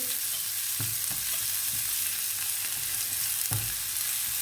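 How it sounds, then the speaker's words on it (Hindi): Chopped onion sautéing with cumin in a pan for a potato sandwich, heard as a continuous close sizzle with a handful of sharp stirring clinks and scrapes against the pan. "अब इसमें ये चॉप की हुई प्याज है एक छोटी नन्ही मुन्नी, ये डाल देते हैं। इसको सौटे कर लेंगे।"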